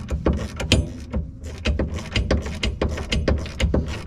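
A wrench turns a 17 mm nut and bolt on the rear strut of a CB7/CB9 Honda Accord, giving irregular metallic clicks and ratcheting knocks, close and fairly loud with no talk.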